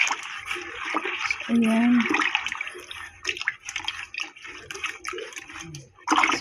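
Fabric conditioner is stirred into water in a bucket, giving continuous swishing and sloshing close by with a few splashes, while a person talks over it.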